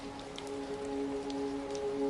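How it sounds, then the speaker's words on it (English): Steady rain falls outside a wooden cabin, a continuous hush with faint scattered droplets and a low steady hum beneath, even and unbroken throughout. "The rain outside grows muffled"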